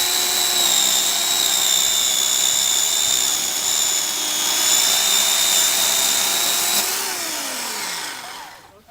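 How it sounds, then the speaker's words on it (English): A power drill bores a hole into the bottom of a Christmas tree stump, whining loudly and steadily at close range for several seconds before spinning down at the end. "I'm going to demonstrate what it's like to drill a hole on the bottom of your tree."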